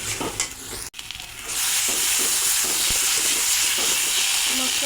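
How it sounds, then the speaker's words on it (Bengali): Ground spice paste with turmeric, coriander powder and salt sautéing in a pan for an egg curry, beginning with stirring and a knock, then breaking into a loud, steady sizzle with scraping. "এবার মশলাটা কষিয়ে নেব।"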